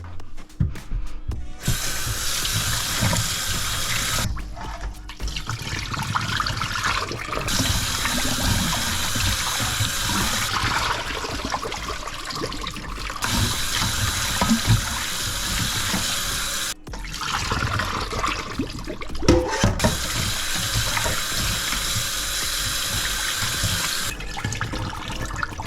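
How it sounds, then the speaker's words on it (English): Tap water poured repeatedly over raw chicken wings in a sink as they are rinsed about four times, a steady close splashing and running flow with brief pauses between fills and emptying. "I just did a quick rinse, about 4 times, you know, just pouring water over them, moving them around, and then emptying it"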